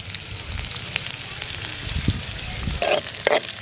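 Onions, green chillies and dried fish sizzle in a pan for Jaffna-style mutton bone curry, a dense crackling fry with a couple of sharper spatula clinks toward the end.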